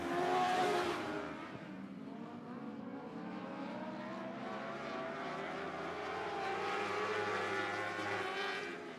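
Dwarf race cars at Sunset Speedway on a green flag, engines rising and revving together in a blended roar that sweeps past and holds, loud and mid-distance.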